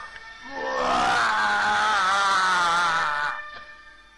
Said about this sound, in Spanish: En eso se volvió a escuchar otro grito de ultratumba.